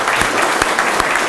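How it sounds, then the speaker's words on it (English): Audience applause at a Rotary club meeting, a short burst of dense, close clapping with a few sharper individual claps standing out. "Let's give them all a round of applause."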